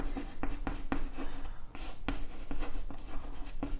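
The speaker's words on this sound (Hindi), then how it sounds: "यहां लिखता हूं" Chalk tapping and scraping on a classroom board during a physics lesson on full-wave rectifiers, a series of short sharp strokes in an irregular rhythm, close and fairly loud, with no talking.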